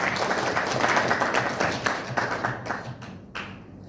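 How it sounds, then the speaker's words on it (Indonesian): A seminar audience claps in appreciation, a dense, fairly loud wash of applause that holds steady, then thins and tapers off into a few scattered claps at the end. "Tepuk tangan buat panjenengan semua"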